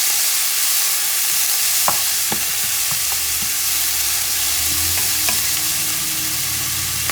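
Goat stew frying in a pot while being stirred, a steady loud sizzle with scattered clicks and scrapes of the spoon against the pot, close up with no voices.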